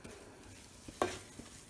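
A butter and flour roux cooking in a pan, faint soft sizzling with a single quick spoon-scraping stir, quiet and close.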